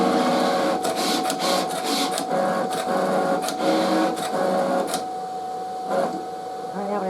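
A Cricut Venture cutting machine scores an Easter basket, producing a continuous mechanical whir with rhythmic clicks and carriage movements, close and steady throughout.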